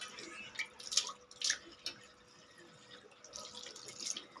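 A sink basin being washed with a mesh net scrubber: quiet, close wet scrubbing and dripping water in uneven bursts, with no talk over it.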